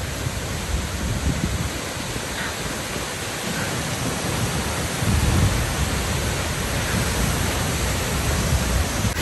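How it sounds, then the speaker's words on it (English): The Gerua waterfall on Iceland's south coast roars in a dense, steady rush of broadband noise, loud and close for the whole stretch with no break. "this is the Gerua waterfall"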